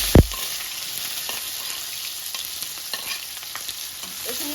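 Chopped onions hit a hot kadai with one sharp thump, then sizzle steadily and loudly in oil, with faint scraping of stirring throughout.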